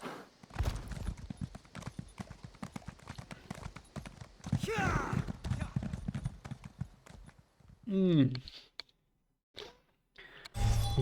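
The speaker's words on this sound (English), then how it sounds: "Let us summon our horses and ride!" Video-game horses (Elder Scrolls Online) gallop, hooves clip-clopping in a steady rhythm for several seconds, with a horse whinnying partway through, then a brief pause before the hoofbeats resume.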